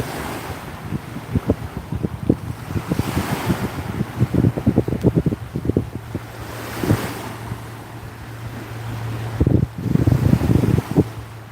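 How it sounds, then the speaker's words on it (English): Lake waves wash onto the Chicago shore in repeated surges, each breaking swell rising and fading in turn, close and fairly loud with wind buffeting the microphone. "I should just film the sound of the waves without my voice."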